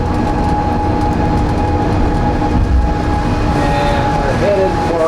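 A monorail train rolls through Sydney, a steady low rumble with faint high whines, heard from inside the car as people talk.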